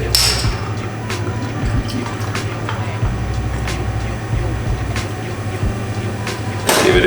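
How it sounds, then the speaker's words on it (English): Ginger beer poured over ice into a Wessex Mule gin cocktail, making a steady close fizzing, gurgling stream with small clinks throughout and a brighter splash at the end. "then we top it up with ginger beer"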